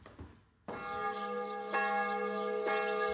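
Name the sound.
church bells of the Saint-Denis-sur-Loire church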